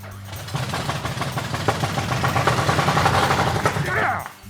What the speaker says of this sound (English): That is an engine that hasn't ran for 50 years, folks.